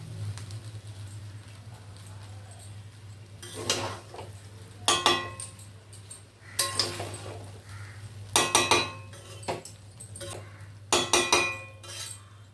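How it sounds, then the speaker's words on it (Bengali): Fried rice stirred in a pan with a metal spatula, giving bursts of scraping and clinking roughly every two to three seconds over a steady low hum. "এবারে আমি এটাকে আস্তে আস্তে করে নাড়িয়ে দেবো।"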